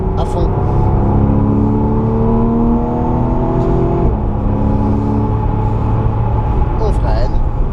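A race car at Le Mans accelerates hard at full throttle, its engine note holding loud and steady with rising harmonics, briefly easing near the middle before pulling on again, while a voice talks over it.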